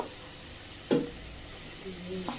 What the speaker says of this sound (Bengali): খুব সুন্দর করে মশলাটাকে আমি কষিয়ে নিব